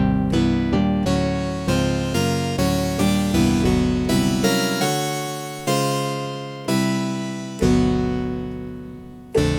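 Clavia Nord Lead 3 synthesizer playing a sequence of sustained, harmonically rich chords and notes, each attack decaying before the next, up close in a home studio with no voices.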